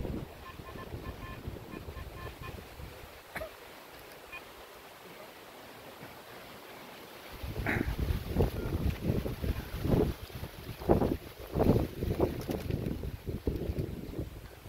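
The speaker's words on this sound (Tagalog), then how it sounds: "Medyo mahangin, guys." Gusty wind buffets an outdoor microphone during metal detecting for gold in Finland, a low rumble that swells into loud, uneven blasts over the second half, with no talk.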